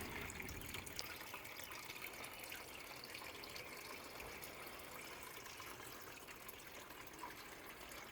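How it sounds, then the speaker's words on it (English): Waterfall spilling into a dual bucket backyard pond, a steady close trickle and splash of falling water running evenly throughout without pauses. "So the waterfall should sufficiently aerate the whole system."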